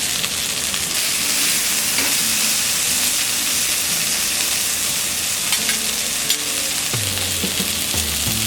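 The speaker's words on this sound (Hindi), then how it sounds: "इसे कवर कर लेंगे और लो फ्लेम में फ्राई करेंगे" Cluster beans fry in a pan over a low flame, a steady, loud, close sizzle that holds without a break, with a faint scrape or stir near the end.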